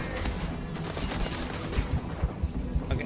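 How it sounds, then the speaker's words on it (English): Gunfire aimed at the player in the video game Starfield, a dense, loud rattle of overlapping shots and thuds that runs continuously, with heavier bursts toward the end. "Okay, they're just shooting me."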